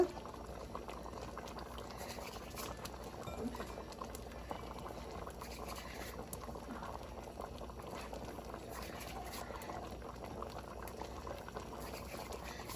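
A pot of Jamaican stew peas bubbles on low heat, with soft, irregular popping and gentle liquid patter that continue steadily. The simmering is quiet and close, with no voices.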